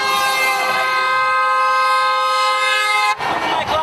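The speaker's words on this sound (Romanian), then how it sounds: "Mai claxonează" Car horns sound in a sustained, loud chorus of steady honking at a street protest against Dodon in Moldova, then cut off abruptly near the end, leaving noisy crowd and traffic ambience.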